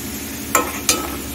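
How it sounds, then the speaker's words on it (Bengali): Potatoes fry in oil over a medium flame with a steady, close sizzle and two brief stirring scrapes partway through. "আলুটা এখন ভেজে নেব গ্যাসটা মিডিয়ামে রেখে"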